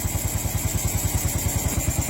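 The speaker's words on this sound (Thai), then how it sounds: "ดูเครื่องมันติดนะครับ เห็นไหม เครื่องมันติดอยู่ การฉีดน้ำมันก็ยังฉีดอยู่" A fuel-injected Honda motorcycle engine with a spark plug fault runs at idle nearby, a steady, rapid thumping pulse that stays even and unrevved throughout, with no talking.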